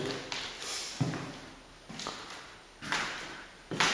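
Footsteps on a creaky old wooden floor in a building in Lviv, Ukraine, a few slow thuds with bright creaks and scrapes, close and moderately loud with no talk.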